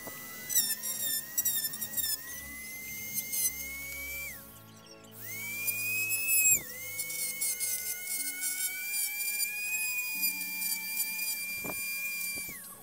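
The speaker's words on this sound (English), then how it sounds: "So with my Dremel tool and the grinding stone, I'm going to start by grinding it down." A Dremel rotary tool with a grinding stone grinds down a part on a customized DeAgostini Millennium Falcon model, its high whine rising and dipping as it bites, pausing briefly midway before resuming.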